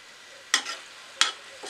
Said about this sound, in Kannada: ಎಲ್ಲ ಕಡೆ ಕೂಡ ಚೆನ್ನಾಗಿ ಮಿಕ್ಸ್ ಆಗ್ತಾ ಇದೆ